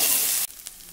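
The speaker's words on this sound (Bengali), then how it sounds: "চলো মশলাটা একটু কষিয়ে নিই।" Ginger, garlic and onion paste masala fries in a pan with a loud, dense sizzle that abruptly drops to a quieter crackle with a couple of soft stirring clicks.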